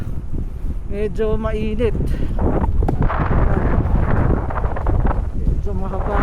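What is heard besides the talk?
strong headwind while cycling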